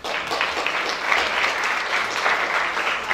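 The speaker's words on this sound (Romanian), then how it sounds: "o asociație condusă de domnul Vladu Dugăcer, pe care vă rog să-l aplaudați." Sustained audience applause fills a hall during a public literary reading in Zalău, Romania: dense, steady clapping from many hands with no break and no voices over it.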